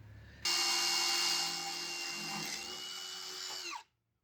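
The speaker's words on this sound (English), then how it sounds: "Drill both holes at once." A power drill whines loudly and steadily as it bores holes for mounting a power tool hanger, then winds down and stops, leaving silence.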